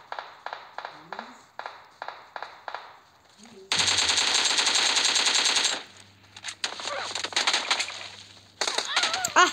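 Gunfire in the video game PUBG: a string of single rifle shots, then a loud sustained burst of automatic fire, followed by more scattered shots and a final volley, all close and sharp.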